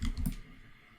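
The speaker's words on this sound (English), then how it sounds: "hold down the shift key and then press period on my keyboard to grow my selection" A few computer keyboard keys pressed at a desk, two or three quick soft clicks in the first half-second, then quiet.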